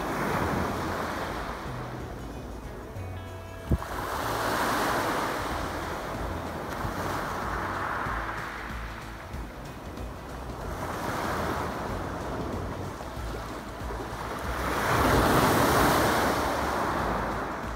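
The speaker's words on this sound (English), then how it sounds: "It's quite breezy down on the beach." Surf rolls in on the beach at Eastbourne in slow repeated swells, each wave building and washing back, with steady breezy wind buffeting the microphone throughout and no talking.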